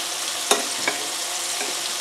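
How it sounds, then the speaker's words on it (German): Meatballs fry in a pan with a steady, loud sizzle, broken by a sharp clink or scrape and a couple of softer knocks as they are moved. "währenddessen die Fleischklößchen anbraten"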